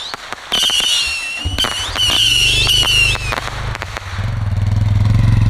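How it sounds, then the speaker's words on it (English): Loud, close consumer fireworks go off with shrill rising whistles, sharp crackling pops and a rumbling, engine-like roar that builds toward the end. "Yeah, these fireworks are ass."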